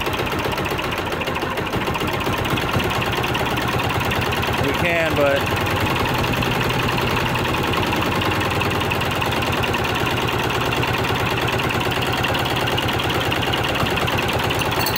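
A 10 HP diesel go-kart engine idles close by with a steady low chugging throb that holds throughout, while someone speaks briefly over it.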